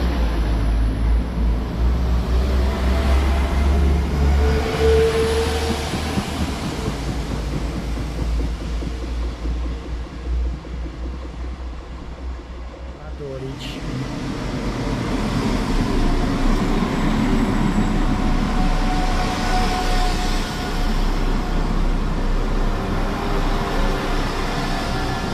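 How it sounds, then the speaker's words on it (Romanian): West Midland Railway train passing at Hagley station, a long rumbling roar that dips briefly and then swells again. "Trenul West Midland Railway"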